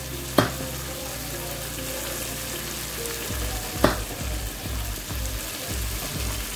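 Chicken curry ingredients sauté in a pan with a steady sizzle, sharp stirring scrapes near the start and middle, and a low hum underneath, with no talking.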